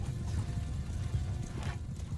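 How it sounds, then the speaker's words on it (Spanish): Horses in the medieval battle game Bannerlord, hooves clip-clopping in a steady rapid patter with occasional whinnies, loud and close over a dense battlefield din. "Alright, hay que tener cuidado aquí con los caballos."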